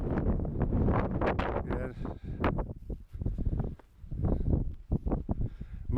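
Strong gusty wind buffeting a microphone outdoors on the fell at Ard Crags, loud, uneven roaring bursts, with someone briefly speaking in between.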